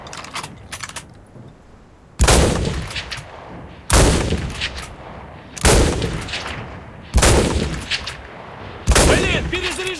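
Mosin Nagant M1891/30 bolt-action rifle fired in the video game Enlisted: five loud, sharp shots spaced about every two seconds, each with a long decaying tail and bolt clatter, with faint voices between them.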